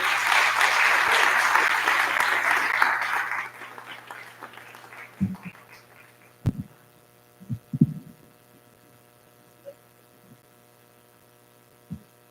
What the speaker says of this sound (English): let's give a round of applause to welcome Melody Roberts onto the stage